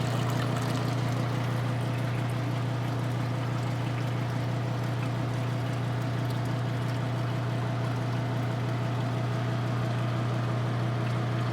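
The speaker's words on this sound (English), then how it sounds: "an aquarium pump for air, and it adds oxygen into the water" Continuous bubbling and trickling water from an aquarium air pump oxygenating hydroponic water in a greenhouse, with a steady low mechanical hum beneath, unbroken throughout, close by.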